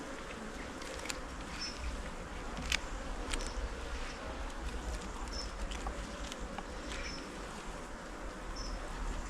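Honeybees buzz continuously during a hive inspection, a dense close-up drone with individual bees whizzing past, and faint sharp clicks and taps from handling the frames.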